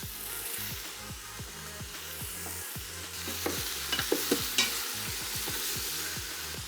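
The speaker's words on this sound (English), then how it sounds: "So this guy I'm gonna pop back in and add in my tomatoes." Fresh tomatoes hit a hot pan for a homemade tomato sauce, setting off a steady sizzle with scraping stirs and a few sharper clatters toward the end, no talking.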